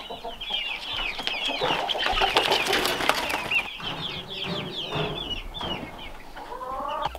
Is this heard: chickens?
yes